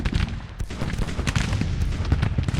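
Skirmishers' rifle fire rattles in a dense, continuous crackle against an artillery battery in Grand Tactician, a Civil War strategy game, with scattered pops and dull booms layered throughout.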